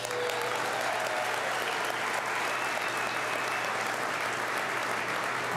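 A large audience applauds at a Ford announcement at the Louisville plant about the Explorer. The clapping is steady and dense, a continuous wash of many hands with no pause, with no voices heard over it.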